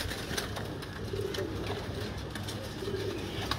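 Pigeons in a loft coo in low, rolling bursts against a steady murmur of background noise, with no talk.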